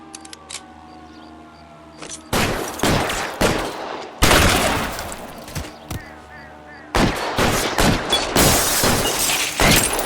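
Gunfire in the L.A. Noire video game: after a quiet start, heavy bursts of loud, close shots crack out in rapid clusters, pause briefly, then resume in another dense barrage.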